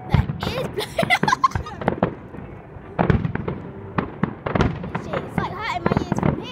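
Fireworks burst in a rapid series of loud, sharp bangs and crackles, some in quick clusters, with brief gaps between volleys and faint crowd voices reacting underneath.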